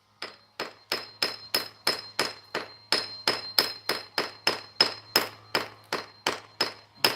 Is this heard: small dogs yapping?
no